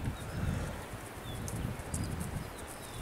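Hooves of a dapple grey working ranch horse clip-clopping at a steady walk on open countryside, a soft, close, continuous beat with faint birdsong above.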